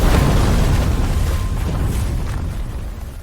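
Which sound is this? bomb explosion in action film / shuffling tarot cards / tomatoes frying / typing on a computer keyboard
bomb explosion in action film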